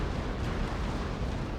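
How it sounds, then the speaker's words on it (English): A warship blows up during a naval battle in Napoleon: Total War, a dense, continuous roaring blast filling the whole moment with no talk. "One of the ships exploding, the second one not too far behind."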